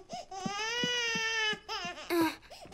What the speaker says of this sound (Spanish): La bebé está llorando.